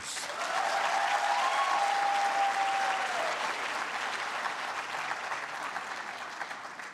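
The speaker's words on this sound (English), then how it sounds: "Can we give them a round of applause?" An audience at a university graduation ceremony gives sustained, full applause that rises quickly, then slowly tapers while staying dense and broad; a faint tone briefly sounds early on.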